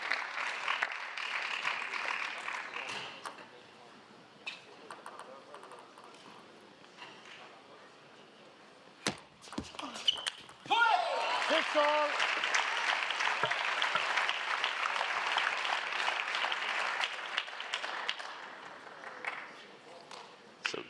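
Crowd at a 2016 Swedish Open men's singles semifinal table tennis match between Mattias Karlsson and Dimitrij Ovtcharov, sustained loud applause and clapping filling the hall, with a commentator's voice heard over it.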